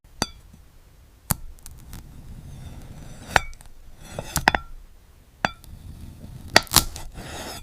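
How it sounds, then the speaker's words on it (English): AI-generated sounds of glass fruit being cut: sharp, isolated clinks and crisp snaps at irregular intervals over a faint hiss, close and bright, with a few clustered cuts near the end and no voices. "I created this glass fruit cutting video, and it was created entirely by AI in just 10 seconds"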